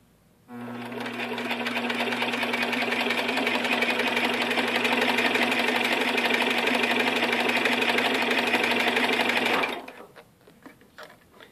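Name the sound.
TW3 441S sewing machine winding a bobbin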